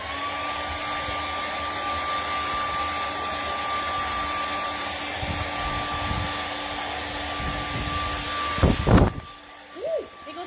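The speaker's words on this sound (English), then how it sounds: "we're going to come in with our handy dandy hair dryer" A hair dryer blows steadily and loudly as it dries a winter snowman painting, a continuous whooshing hum with a whining tone that cuts off near the end, followed by a brief voice.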